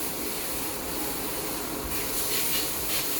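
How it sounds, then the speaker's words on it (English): The rinse nozzle of a disinfecting foam machine sprays a steady, close hissing jet of water that grows slightly louder and harsher partway through. "adjust your spray pattern how you need it, and then you can rinse it all off."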